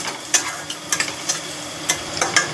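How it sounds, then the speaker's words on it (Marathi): Onions sautéing in hot oil in a pan for egg bhurji, a steady sizzle punctuated by irregular spatula scrapes and clinks, close and fairly loud. "आता आपण कांदा घालूया। परतूया"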